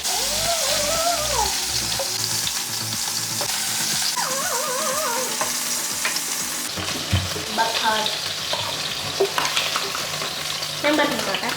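Chicken pieces frying in a pan for butter chicken, a steady loud sizzle running throughout with occasional scraping and clinking as the pieces are turned, no talking.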